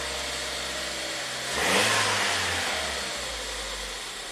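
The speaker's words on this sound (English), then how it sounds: "Let's rev it up a little bit." A Ford EcoBoost engine with a faulty oxygen sensor, suffering surging and stalling, revs up once in a single swell from a steady idle, then falls back to idle, close and loud with no talk.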